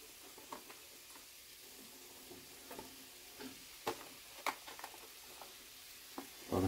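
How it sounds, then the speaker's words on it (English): Mushrooms stir in a hot pan for baked eggs, soft scraping and intermittent clicks of a utensil against the pan over a faint sizzle, fairly quiet and close, with a louder clatter at the end. "Okay, and I just continue stirring."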